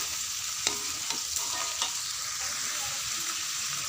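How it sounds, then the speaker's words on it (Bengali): Ginger and cumin paste sautéing in a pan, a steady broadband sizzle with a few sharp scraping stir strokes, close and alone with no talking. "আদা বাটা, জিরে বাটা, হ্যাঁ, ভালোভাবে কষিয়ে নেব।"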